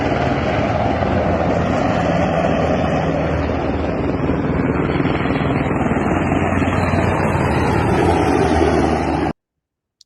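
Two helicopters flying over Pokrovsk, heard as a steady, loud broadband rotor and engine drone that stays constant throughout before cutting out abruptly near the end.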